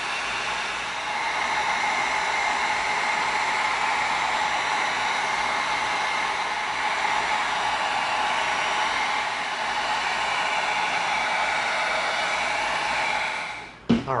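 A heat gun blows a steady, loud rush of hot air over shaped EVA foam to seal it, a continuous hiss lasting about thirteen seconds before it switches off with a brief clatter at the end.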